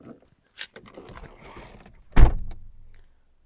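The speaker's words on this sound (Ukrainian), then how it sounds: "Передні склопідйомники." Front electric power windows on a Volkswagen Golf with an automatic gearbox whir briefly, followed by a louder close thump near the end, heard up close inside the car.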